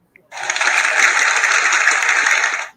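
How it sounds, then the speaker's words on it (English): A short burst of dense applause, steady and fairly loud for about two seconds before stopping abruptly, with no voices over it. "I forgot to give myself an applause."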